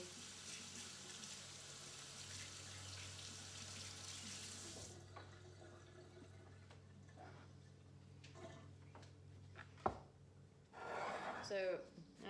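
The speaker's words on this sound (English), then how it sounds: "Get some of this dough rinsed off my fingers again" A kitchen water tap runs steadily while fingers are rinsed of coffee cake dough, a broad hiss that stops abruptly midway, followed by quieter clatter, a sharp knock and a few brief splashes near the end.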